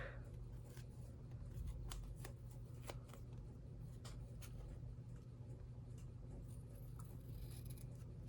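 Paper for a junk journal is trimmed close by with soft, crisp snips and rustling handling noises, faint against a low steady background hum.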